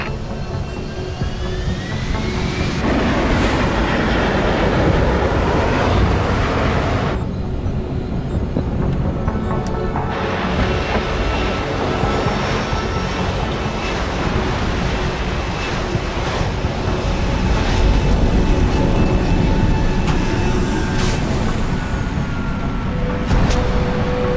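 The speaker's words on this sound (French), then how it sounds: "Messieurs, l'atterrissage est imminent." An aircraft comes in to land in Deus Ex: Human Revolution, with a loud, continuous roar of engines and rushing wind that swells and shifts throughout.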